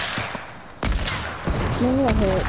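Bursts of gunfire in Fortnite: sharp, loud shots cracking at intervals amid game effects, with a voice speaking briefly toward the end.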